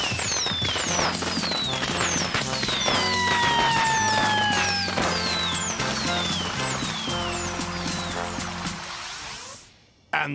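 Fireworks in a children's fire engine story, a dense, continuous run of crackling bursts and whistling rockets with rising and falling whines, loud and busy over a musical score, dropping away abruptly near the end.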